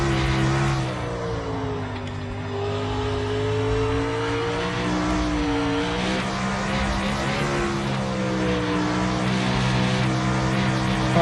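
A winged sprint car engine in the iRacing sim roars loud and continuous, its pitch rising and falling as the throttle is picked up and the car accelerates out of a corner, with no talk over it.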